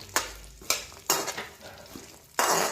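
Dry fruits and dates sautéing in ghee in a pan, with a few sharp scraping stirs and bursts of sizzle spaced through the short stretch, ending in a louder frying hiss.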